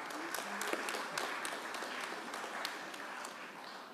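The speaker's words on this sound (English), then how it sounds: "Let's give that another round of applause." A crowd applauds steadily, a dense wash of clapping heard at a distance, fairly faint and even throughout.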